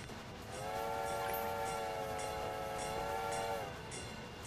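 A train runs along a line in a railway game, with steady rumbling wheels and rhythmic clicks from the rails and a long sustained horn blast in the middle, fairly close.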